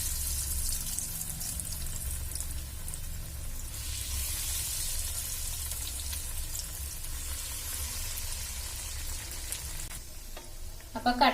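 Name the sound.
chicken cutlets frying in oil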